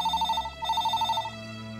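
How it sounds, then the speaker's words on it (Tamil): Landline telephone ringing, a rapid trilling bell in two quick bursts with a short gap between, clear and fairly loud over a faint musical background, no speech. "யாரும் ஃபோன் பண்ணுறாளே?"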